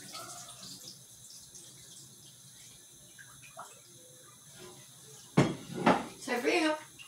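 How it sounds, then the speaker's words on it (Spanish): Pork pieces for chicharrones are drained in a kitchen before frying, heard as a faint clatter of pots and a short burst of water and liquid sloshing near the end, after a quiet stretch. "Ahora yo la voy a escurrir aquí para ponerla a freír."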